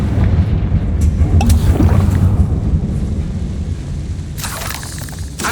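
A Confringo blasting spell explodes in the Hogwarts Legacy video game with a loud, rumbling boom that rolls on for several seconds, followed by a sharper crackling burst near the end.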